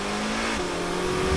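A Corvette ZR1 accelerates hard on a winding German road at unlimited speed, its engine note rising steadily with a loud, close, continuous roar and no talking.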